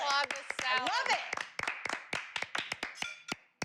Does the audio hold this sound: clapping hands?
yes